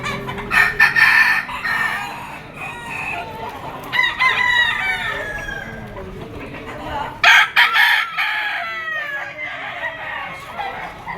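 A dark-legged young gamecock stag crows and clucks repeatedly at close range, its calls rising over a busy gamefowl market with other birds audible in the background.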